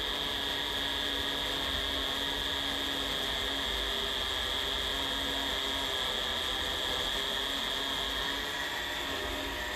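A mini milling machine motor runs slowly under cutting load, giving a steady, continuous hum and whine at close range with no breaks and no talking.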